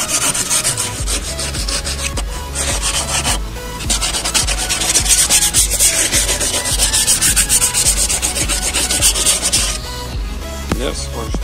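Steady, continuous rubbing of sandpaper on a wood block over the interior parts of a Mercury 15 outboard motor, a loud, close, dense scratchy rasp with brief changes in stroke and no talking.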